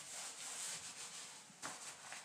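Someone wipes a windowsill clean with a bleach-soaked cloth, making soft, faint rubbing and scrubbing strokes close by, with a brief louder swipe near the end.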